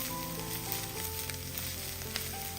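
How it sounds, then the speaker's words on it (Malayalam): Ginger garlic paste frying with shredded cabbage in a hot pan, giving a steady close sizzle with light stirring scrapes and a small pop near the end, with no voices. "ഇനി ഇതിലേക്ക് സ്പൂൺ ഇഞ്ചി വെളുത്തുള്ളി പേസ്റ്റ് ഇട്ട് കൊടുക്കാം"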